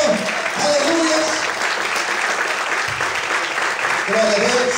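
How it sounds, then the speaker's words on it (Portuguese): A church congregation claps and applauds loudly for a few seconds, a dense patter of many hands, with voices and a quiet musical tone underneath. "Você pode aplaudir o Senhor."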